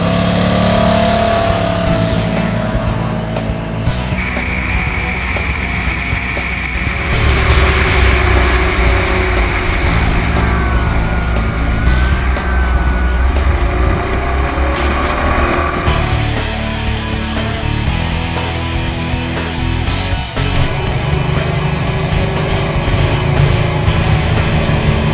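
A heavy BMW C 650 GT automatic scooter engine drones loudly and steadily as it accelerates sluggishly, a sustained close roar with shifting tone and no voices.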